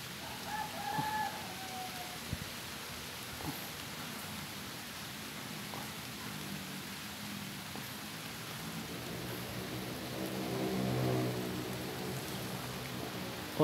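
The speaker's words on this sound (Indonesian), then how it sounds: "Wah, hujan." Steady rain falls as a broad, even hiss beside a catfish pond filled from a river, with a rooster crowing faintly early on.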